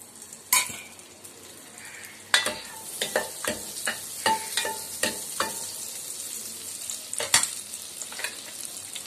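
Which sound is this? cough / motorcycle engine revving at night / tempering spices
tempering spices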